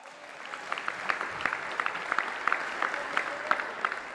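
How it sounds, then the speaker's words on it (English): Audience clapping during the Illinois governor's 2023 State of the State address, sparse and somewhat distant with distinct individual claps rising from a steady murmur of the hall. "The people clapping are the ones who work there."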